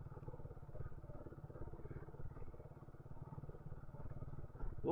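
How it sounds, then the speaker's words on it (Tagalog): A motorcycle engine idles and putters steadily nearby, a low rhythmic thrum with light mechanical rattle throughout, as if at risk of stalling. "Huwag ka lang mamamatay yung makina ka."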